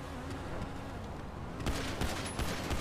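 Video game gunfire in a car chase game comes as a rapid burst of faint, quick shots toward the end, over a steady low engine-like drone and buzzing background.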